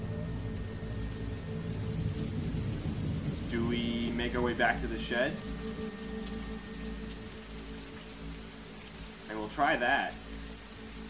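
Rain patters steadily outdoors in The Walking Dead Season 2 game, an even, fairly quiet wash of drops throughout, with someone speaking briefly over it twice.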